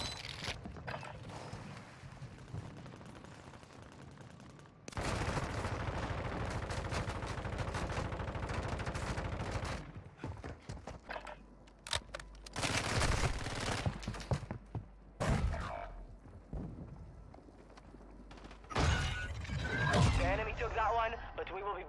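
Bursts of gunfire in Call of Duty: Warzone, several loud volleys of automatic shots separated by quieter stretches, with game voice lines and talk over the action.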